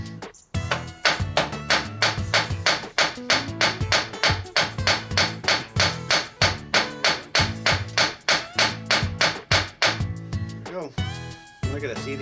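Hammer driving a wheel stud into a Toyota Land Cruiser 100 front hub during a brake and bearing job, about two dozen loud, evenly spaced metallic strikes in a fast steady rhythm, then a pause and a few scrapes.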